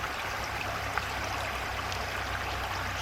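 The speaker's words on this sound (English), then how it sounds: "listen to this creek" A creek flowing steadily, a constant rushing, trickling wash of water close by with no voices.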